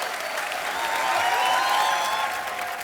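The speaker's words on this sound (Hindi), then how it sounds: "जोरदार तालियां एक बार।" A studio audience at a TV comedy talk show breaks into loud, sustained applause that swells in the middle and holds steady as a dense wash of clapping, with no voices standing out.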